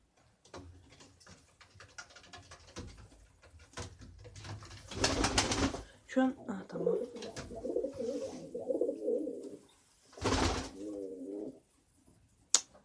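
Pigeons coo in soft, repeated bursts, close by, with brief murmured talk in between and some rustling and handling noise.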